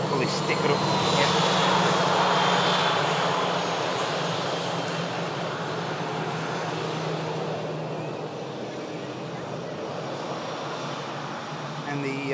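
A fixed-wing airliner's engines roar steadily as it passes near a Manchester airport viewing spot, loudest early and then easing into a sustained broadband rumble with a low tonal drone.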